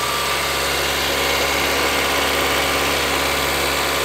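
A Kia Carens II engine runs with the throttle held at 2000 RPM, giving a loud, steady, unbroken drone close by.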